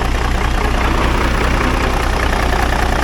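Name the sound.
small cam Cummins diesel engine of a winch truck idling, slight rattling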